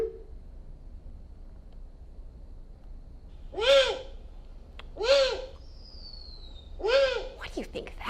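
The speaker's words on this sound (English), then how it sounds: "Oh, I think it is a bird." A bird calls at night in the woods with three separate hooting, owl-like calls spaced a second or two apart, each clear and fairly close over quiet background hiss.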